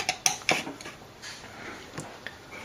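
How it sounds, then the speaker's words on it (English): A knife cutting a piece of butter on a plate, heard as a few sharp clinks and taps of metal on dish, close and quiet against near silence. "cut a piece of the butter."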